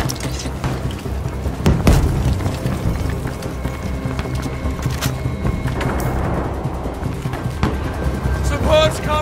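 A bomb goes off in Battlefield 5 during Conquest on the Rotterdam map: a single heavy boom near the start, set against constant battle noise and shouting voices.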